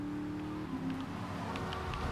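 A car engine revs steadily in the video game GTA 3, a sustained mid-level motor hum with a held, slightly wavering pitch and no talk.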